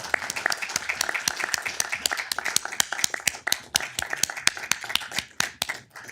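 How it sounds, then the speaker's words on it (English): Council meeting attendees in Downey give a round of applause honoring veterans: distinct, close hand claps from a small group, rhythmic and steady, tapering slightly near the end. "A round of applause."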